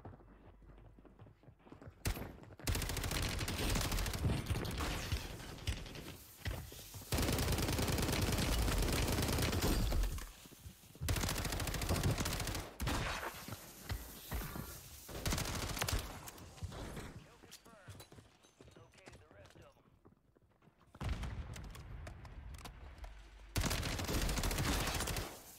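Rapid bursts of gunfire from a battle-royale video game, loud and dense in long volleys that drop out briefly between clusters of shots.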